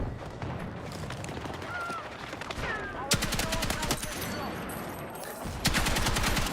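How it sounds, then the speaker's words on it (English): Rapid gunfire in an online shooter, aimed at a box, with dense bursts of automatic shots starting partway through and again at the end over a noisy background. "I'm just shooting the box in front of me"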